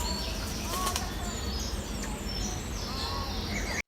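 Wings of a dark bird flap in flight through warm air over baobabs in Madagascar, soft and steady beneath an outdoor wash of faint bird calls and ambient sound.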